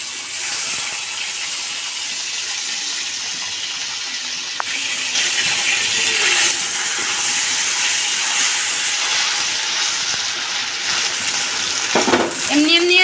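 Onion and garlic frying in a pan with a little cumin paste added: a steady, loud sizzling hiss throughout, with a brief clatter of stirring near the end.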